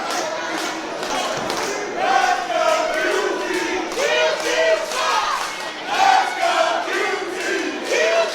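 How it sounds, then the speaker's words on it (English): At a live independent wrestling show, an arena crowd chants and yells in split reaction, rhythmic rising shouts and cheers pulsing for several seconds with occasional thuds, loud and continuous. "you can hear that crowd is split"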